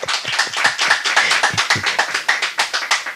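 An audience clapping hands at a Tamil Christian sermon, a brisk, even run of about a dozen sharp, close claps with no voices.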